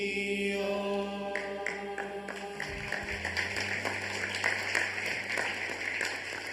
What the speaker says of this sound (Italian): questo applauso va a te, Padre